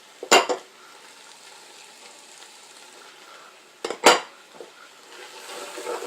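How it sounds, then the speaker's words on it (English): Onions, carrots and celery tossed in a soup pot, two sharp utensil scrapes and clatters against a soft background sizzle, fairly quiet and without talk. "you're just going to toss that around, and you're going to saute those vegetables a little bit"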